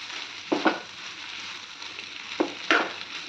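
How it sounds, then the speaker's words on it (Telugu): Sliced onion and ivy gourd (dondakaya) sizzle in an oiled pan, Andhra-style. The frying hiss is steady, broken by a few brief scraping stirs of a spatula against the pan. "ఇప్పుడు ఉల్లిపాయ, దొండకాయ బాగా ఫ్రై అవ్వాలి."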